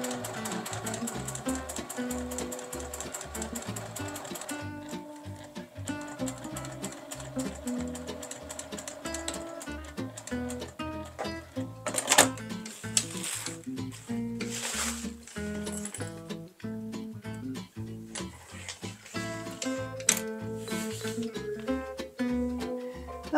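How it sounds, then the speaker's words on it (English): A sewing machine stitches a clear vinyl pouch in quick, rhythmic bursts of mechanical chatter with brief pauses, under soft background music. "I'm going to take it back to the sewing machine and again stitch"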